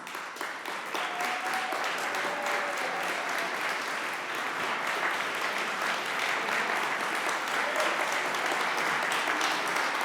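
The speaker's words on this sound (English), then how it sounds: "could you please stand so we can give you a round of applause?" Sustained applause from an awards ceremony audience, steady and dense clapping that holds for the whole stretch without anyone talking.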